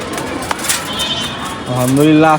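Racing pigeons cooing as they return home to their loft, a soft low warbling coo rising near the end over background voices and ambient noise.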